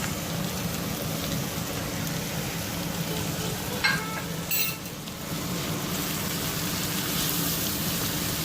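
Masala of red chilli, dried white coriander, turmeric, salt and garam masala fries steadily in a pan, a dense continuous sizzle with brief stirring scrapes near the middle.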